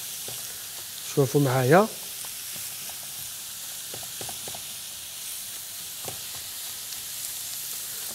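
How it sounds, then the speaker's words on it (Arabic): Minced meat fries with onion in a pan, giving a faint steady sizzle and hiss after a brief spoken phrase, with occasional soft stirring clicks. "هكذا، قلنا نحلوا هذا اللحم المفروم مليح في البصل، هذا بهذه الطريقة راح نخليه يتقلى"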